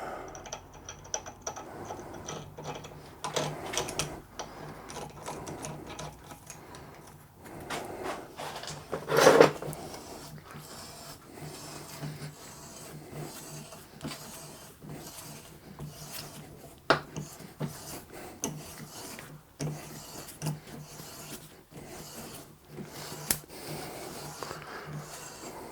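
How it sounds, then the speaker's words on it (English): A hand tap cuts a thread into the valve spindle hole of a machined part, giving intermittent scraping, ratcheting and clicking at close range with quiet gaps between turns. "I'm just going to run a tap down the hole where this valve spindle goes."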